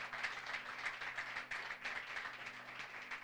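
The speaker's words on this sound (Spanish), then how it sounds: "Eso merece un aplauso." A church congregation claps during a Spanish-language Easter Sunday service. The applause is dense and steady, muffled and fairly distant, and it holds throughout.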